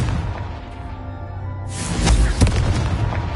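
A Confringo blasting spell in Hogwarts Legacy goes off with a loud booming explosion after a quieter lead-in, followed by crackling debris and rumble.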